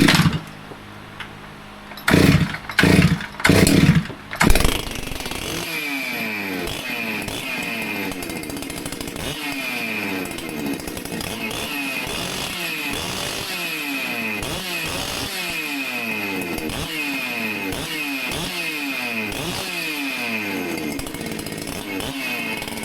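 Modified Stihl chainsaw running on a dynamometer test stand, a few short bursts at first, then a loud, steady high-revving engine whine held close up with rhythmic load cycling, no talking.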